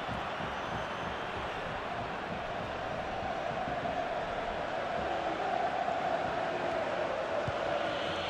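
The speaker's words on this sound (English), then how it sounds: "The crowd certainly think so. Just listen to them." A large stadium crowd roars in the EA FC 24 football video game late in a Real Madrid match, a broad, sustained wall of cheering that swells slightly toward the middle, heard alone without commentary.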